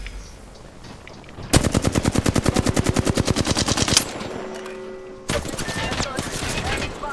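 Sustained automatic gunfire in Apex Legends, a rapid even burst of about two and a half seconds fired at an enemy shield, loud and close, followed by quieter in-game sounds with faint talk.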